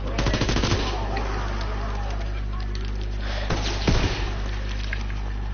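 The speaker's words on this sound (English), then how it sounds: "I've got a really good toggle action gun, that's what it's called." Rapid bursts of toggle-action gunfire ring out in a zombie video game, with a dense volley at the start and another short burst near the end over steady game background noise.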